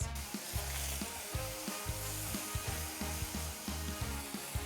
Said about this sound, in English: we're just going to stir everything around and cook it until those blueberries start to burst